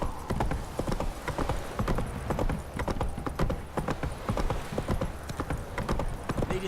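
Horse hooves clip-clopping steadily in The Witcher 3 video game, a close, continuous rhythmic trot with faint background ambience and no talk.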